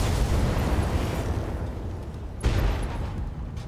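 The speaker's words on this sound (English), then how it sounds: "Ammo explosion. Pilot injured." An ammo explosion on a mech in the RogueTech BattleTech mod booms as a loud, dense roar, followed by a second sharp blast partway through that then rumbles on.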